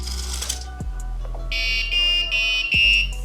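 A high electronic buzzer tone from an Arduino robot sounds in steady bursts against low hum and clicking, fairly close and loud.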